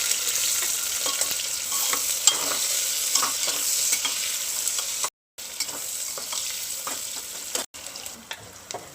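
Chopped onion goes into hot oil with mustard seeds and cumin and crackles in a steady close sizzle. Frequent stirring scrapes and taps sound over the frying, and there are two short silent gaps and no talking.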